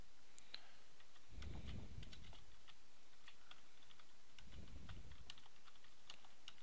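Quiet typing on a computer keyboard: irregular clusters of light key clicks throughout, with two soft low thumps in between and no talking.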